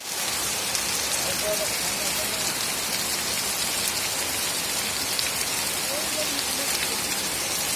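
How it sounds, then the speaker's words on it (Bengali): Steady nighttime rain falls close by, a thick constant patter of drops on hard surfaces, loud and unbroken, with faint background sounds but no clear speech. "টিপ বর্ষা পড়ছে, টিপ করে।"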